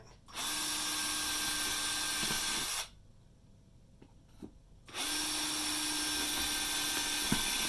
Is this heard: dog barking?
no